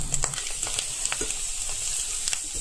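Egg fried rice sizzles in a hot pan as salt and turmeric are stirred through it, with a steady hiss and repeated quick scraping taps of the spoon, close and continuous.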